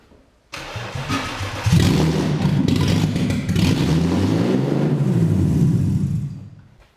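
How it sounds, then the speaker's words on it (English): Engine of a BMW E36 drift car after an engine swap cranks, fires and settles into a loud, steady running idle close by, a few blips rising and falling before it fades out. "Okay, so now the car's running"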